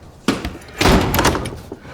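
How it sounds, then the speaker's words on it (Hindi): A door is shut in a Hindi film scene: a sharp knock-like thump, then a louder, longer bang as it slams, followed by a faint rattle. "दरवाजा बंद करो।"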